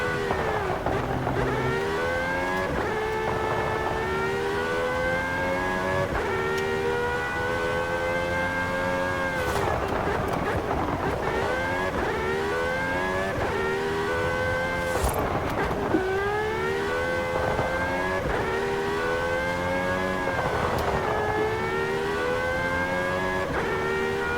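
Racing sim car engine driven with a Thrustmaster wheel, revving up through rising gear sweeps again and again, loud and continuous with no talk.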